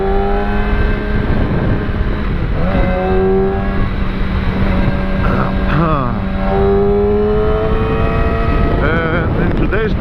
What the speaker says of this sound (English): We're on top of an R6, Yamaha R6 2006 model.